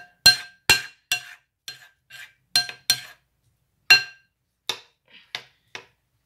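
Beads in a Smile Crunchy kit mixture clink sharply against a bowl as it is stirred, about a dozen separate crisp taps spaced irregularly with quiet gaps between them.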